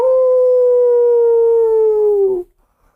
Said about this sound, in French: c'est beau un loup, hein? Oh, les loups.